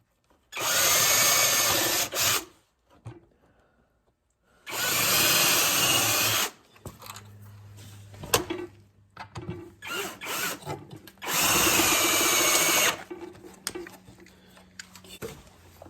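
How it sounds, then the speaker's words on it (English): A power drill whirs in three loud bursts of a couple of seconds each, pre-drilling into ash wood, with quieter handling and clunks between them. "I'm going to pre-drill through the ash."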